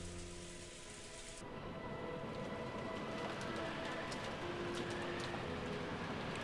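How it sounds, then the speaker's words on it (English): Heavy rain pouring down like a typhoon in the video game Umineko, a dense steady hiss of downpour that swells slightly after the first second, with faint tonal game sounds underneath. "the rain was pouring down spectacularly"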